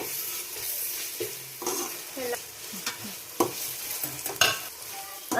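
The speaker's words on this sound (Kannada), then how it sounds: "ಶುಂಠಿ ಬೆಳ್ಳುಳ್ಳಿ ಪೇಸ್ಟ್ ಆ್ಯಡ್ ಮಾಡ್ಕೊಳ್ಳೋಣ. ಇದನ್ನ ಸ್ವಲ್ಪ ಫ್ರೈ ಮಾಡ್ಕೊಳ್ಳೋಣ." Ginger garlic paste fries in a pan for chicken gravy, a steady close sizzle broken by repeated scraping stirs of a spoon against the pan.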